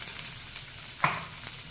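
Boiled cluster beans drop into hot sizzling tempering, giving one sharp splashy hiss partway through over a faint steady frying crackle, close and quiet with no talk.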